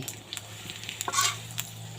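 Sugar-seasoned sweet pork sizzles and crackles in a hot, drying pan, a steady close frying hiss with occasional louder spatters.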